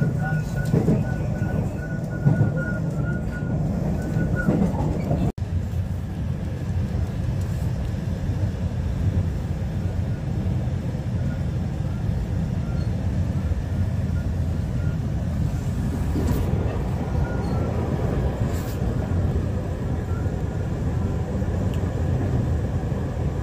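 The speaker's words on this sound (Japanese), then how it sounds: "電車は12分遅れで出発します。" A JR West 223 and 225 series rapid train departs and rumbles along the rails in a steady, loud, continuous roar from start to finish, with a brief tone near the beginning and no voices.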